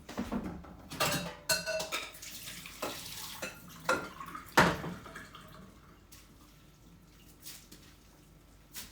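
Pots and utensils clatter over a sink as cooked noodles are strained, water running and splashing, several sharp knocks early, then a softer steady trickle; no talking.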